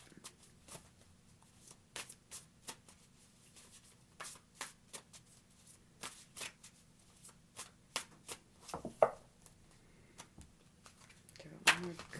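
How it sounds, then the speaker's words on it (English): A deck of tarot cards is shuffled by hand in repeated soft riffling bursts and taps, close and fairly quiet, with a few louder snaps near the end. "Give it one more good shuffle here."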